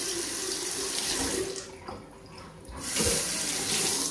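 Water tap running in a hotel bathroom in Pattaya, Thailand, a steady close splashing stream that thins for a moment in the middle and then surges back strongly.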